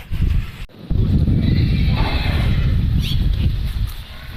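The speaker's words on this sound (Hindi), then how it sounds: "तेरा घोड़ा बोला" A horse on a village farm lets out a loud, drawn-out whinny close by, heard over steady outdoor background noise and a brief sharp knock near the start.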